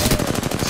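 Rapid automatic gunfire in the Apex Legends video game, a dense burst of close, loud shots in quick rhythm, no talk.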